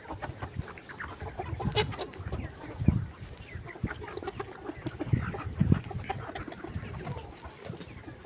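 Hundred-day-old layer pullet chickens cluck and chatter in a steady, busy flock chorus, with several louder close calls standing out over the continuous murmur.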